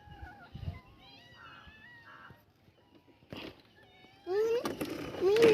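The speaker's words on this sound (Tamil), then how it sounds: "பின்னாடி பூனை நிற்கி பாரு" A cat meows several times, thin and wavering, with a few louder, closer yowls toward the end over faint background noise.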